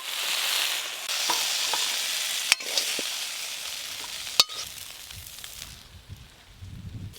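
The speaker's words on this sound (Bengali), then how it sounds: "চাপা খুলে বেশ ঘন ঘন কিন্তু নাড়তে হবে, নাহলে এক পাশটা ভেন্ডি পুড়ে যাবে।" Okra stir-fried in a pan hisses and sizzles steadily, with the scrape and clack of stirring utensils striking the pan a couple of times, then the sizzle subsides toward the end.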